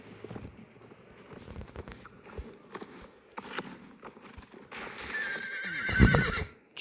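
A horse in a video game whinnies toward the end, a loud bright neigh with a low snort, after scattered soft hoof clops and thuds in a busy game soundscape.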